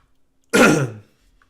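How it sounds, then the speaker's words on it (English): A single short, rough cough from a man recovering from a cold, close and loud, in an otherwise quiet room. "Excuse the cough, I'm still sort of recovering from a cold."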